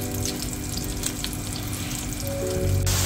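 Vegetables, potatoes among them, fry in oil flavored with mince, spices and meat, making a continuous close sizzle with a watery, crackling texture that swells slightly near the end.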